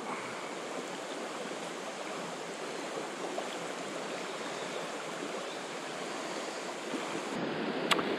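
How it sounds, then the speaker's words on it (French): A river flows steadily in a trout-fishing spot, a continuous broadband rush of moving water close by, unbroken for the whole stretch with no talk. "Vraiment une belle rivière."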